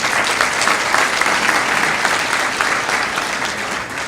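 An audience applauds at a city's annual state-of-the-city address, a dense, steady wash of many hands clapping that carries on throughout and eases slightly near the end.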